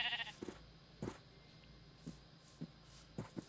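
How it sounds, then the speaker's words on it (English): Sheep bleat in a farm-themed video game, several short separate calls spread across a few seconds, the last two close together, clear and fairly near over a quiet background. "Sheep, sheep, sheep. Come this way."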